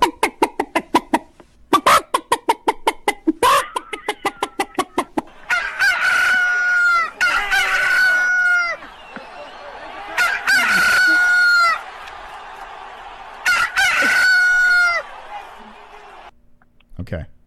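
A rooster crows loudly several times with clucking between the calls, played back from a short video with Russian writing. The crows come in long repeated bursts after a run of sharp clicks.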